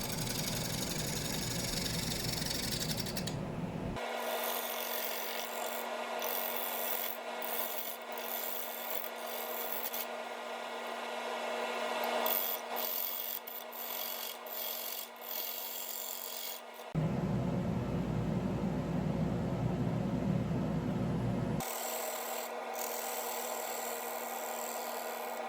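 Wooden bowl blank from an irregular log with a large side piece missing and chainsaw marks, spinning on a lathe while a tool flattens the foot area, a steady loud rasping scrape with a motor hum and a brief pause partway.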